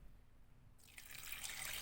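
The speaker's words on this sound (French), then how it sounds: "je m'apprête à mettre de l'eau à saucer" Water is poured into a cooking pot of fried onions, a faint quiet start giving way to a rising splashing rush that grows steadily louder, with no talking.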